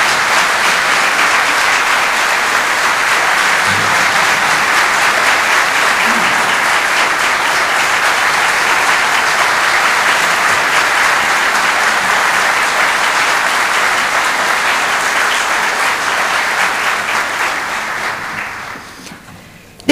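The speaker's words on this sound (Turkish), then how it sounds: "alkışlarınızla efendim." An audience at a Turkish classical music choir concert applauds loudly and continuously as a dense wash of clapping that holds steady for most of the stretch, then tapers off near the end.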